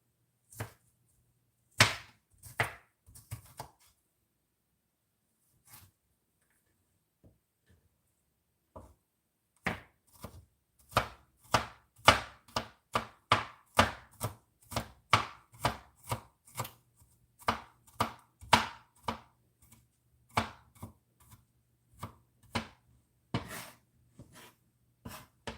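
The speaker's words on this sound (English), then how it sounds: "Get this garlic cut up." A knife chopping garlic on a board, heard as a few scattered cuts, a short pause, then a long run of quick, sharp, close chops in an uneven rhythm, with no talking.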